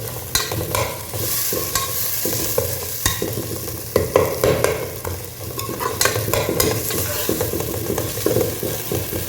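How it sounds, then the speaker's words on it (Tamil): Masala sizzles and is stirred in a pan while being sautéed for beef biryani, a steady frying hiss broken by repeated scraping and clinking of the spoon, close and fairly loud, with no talking. "இதில் அப்படியே வதங்கட்டும்."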